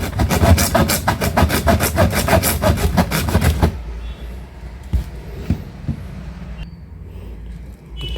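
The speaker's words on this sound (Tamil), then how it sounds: "செடிமெண்ட் ஃபில்டரு கட்டிங் போட்டாச்சு." A 9-inch pull saw cuts through a sediment filter with loud, rapid, rasping strokes for several seconds, then stops, followed by a few quieter knocks and handling sounds.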